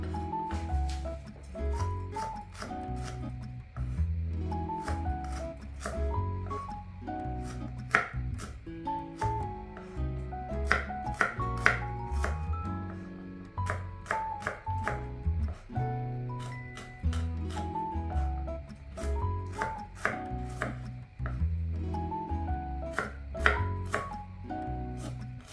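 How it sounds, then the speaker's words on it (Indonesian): Shallots being sliced with a knife on a cutting board, giving quick, rhythmic, close-up chops in steady bursts over continuous background music. "bawang merah kita rajang"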